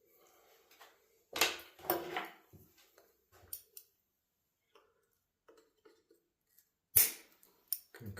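Pruning shears snip branches on a hawthorn bonsai, a few sharp, close cuts in separate bursts with quiet handling noises and small ticks in between, no talking.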